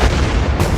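A fuel drum, set off by welding sparks during night work in the 2004 movie Flight of the Phoenix, bursts in a loud close boom with heavy low rumble that fills the whole moment.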